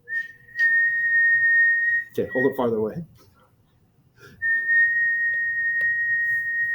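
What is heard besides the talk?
person whistling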